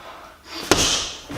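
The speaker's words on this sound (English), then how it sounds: "I was able to knock down the bob." A heavy freestanding punching bob takes a punch and is knocked down, giving one sharp, loud thud with a brief rumble after it.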